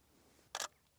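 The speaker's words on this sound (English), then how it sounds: "Oh, I've just taken a shot without actually pressing the shutter" A single sharp shutter click from a Nikon or Canon camera set to its 10-second self-timer, brief and close in an otherwise quiet room.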